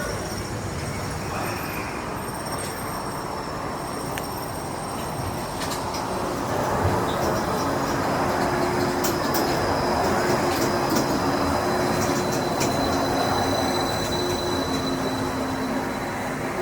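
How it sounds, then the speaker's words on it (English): Disneyland Monorail train running, a continuous rumbling rail roar with hiss and faint high squeals, swelling slightly louder midway and steady to the end, no talk. "welcome aboard the Disneyland Monorail"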